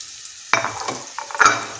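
Patra is stirred into a hot tempering with turmeric powder and sesame seeds in a pan, giving a steady sizzle broken by a few sharp stirring scrapes and clatters close by.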